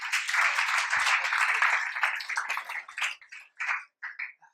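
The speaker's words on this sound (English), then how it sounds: "could you please give a big round of applause to Jack with Bandzest?" A small crowd at a startup pitch evening bursts into applause that holds for a couple of seconds, then thins into scattered, separate claps before dying away.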